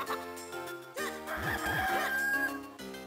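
A cartoonish chicken call from the Zelda: The Minish Cap video game, a brief squawking crow and cluck sequence with bright, synthesized tones, heard alone.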